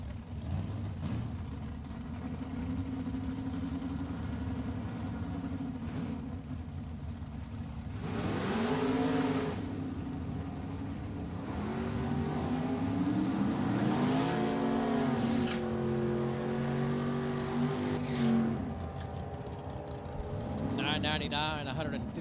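A 1993 Dodge drag racing car with a 340 cubic inch Mopar engine at a drag strip, its engine droning and revving in rising and falling pitch sweeps under a steady background roar, with an announcer talking over it.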